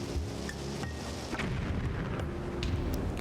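Bombs bursting in the bomb basketball minigame of The Legend of Zelda: Skyward Sword, a dense run of booming, rumbling blasts layered over game music and ambience, with several sharper bursts standing out across the stretch.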